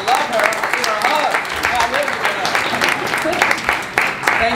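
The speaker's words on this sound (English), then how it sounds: "we should give her an applause." Town hall audience applauding a primary care physician who asked a question, a steady dense patter of clapping filling the room with voices and cheers mixed underneath.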